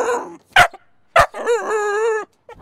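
A hunting dog in a yard enclosure gives two short sharp barks followed by a longer whining yelp, loud and close, with no other sounds.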